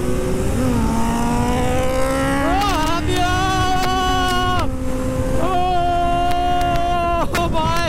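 Suzuki Hayabusa and Kawasaki ZX10R motorcycles racing, engines screaming loud and close with rising pitch sweeps through repeated gear changes, revving up, dropping and climbing again over steady wind rush.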